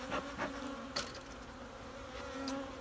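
Honey bees buzzing thickly around an opened hive with swarm cells and honey-filled supers, a dense continuous hum close by, with individual bees droning past the listener.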